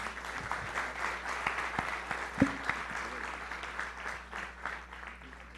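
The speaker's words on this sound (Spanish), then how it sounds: "yo pido un aplauso para Fernando por su presencia" An audience applauds Fernando at a civic gathering, a steady patter of many hands with a few sharper claps standing out, moderately distant and continuing throughout.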